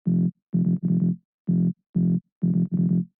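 A mid-layer rhythm bass synth for heavy tech house plays short, distorted, buzzy stabs in a syncopated pattern of repeating note groups with gaps between them, loud and alone.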